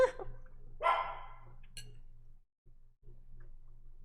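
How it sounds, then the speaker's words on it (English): A dog barks a few times indoors at home near the camera, a couple of sharp bursts over a steady low hum and faint ticking. "I think my dog wants to go outside."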